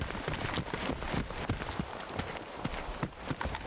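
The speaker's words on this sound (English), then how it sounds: "I hear footsteps everywhere." Quick, uneven footsteps patter across hard ground in the video game Stalker 2, Heart of Chornobyl, many steps overlapping at a middling distance with no talking.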